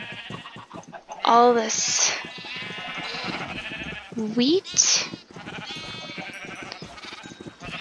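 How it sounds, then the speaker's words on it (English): Sheep in the Minecraft video game give two short, loud, wavering bleats, about three seconds apart, over someone talking steadily throughout. "Let's just breed 2 sheep."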